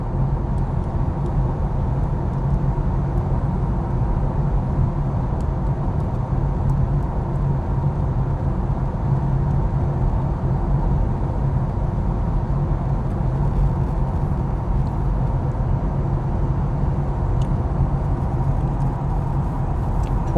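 Steady road and tyre roar inside a Tesla Model S Long Range on a motorway, a constant loud low rumble with no pauses for the whole stretch.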